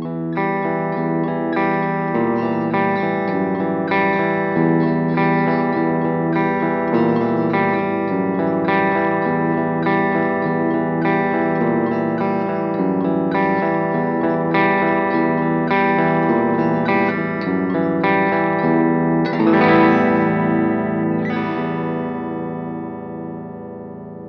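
Electric guitar strung with Richter strings and played through an Engl Ironball amp, a steady clean-toned run of picked notes and chords with light effects, ringing out at the end, close and uninterrupted by talk.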